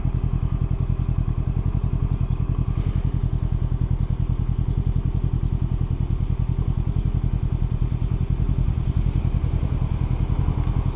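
A Can-Am Ryker three-wheel motorcycle engine runs at a steady idle, a loud, close, low rhythmic throb that holds even throughout, no talking, in New York City.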